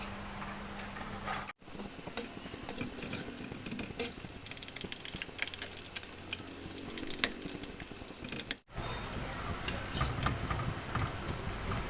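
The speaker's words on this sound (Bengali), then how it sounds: "কম আঁচ করে ভাজছি তো ওই জন্য।" Vada fries in oil over low heat with a soft, steady bubbling hiss and faint crackles, quiet and close, broken by two brief cuts to silence.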